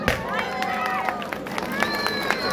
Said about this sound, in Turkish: çiftimiz için güçlü bir alkış alalım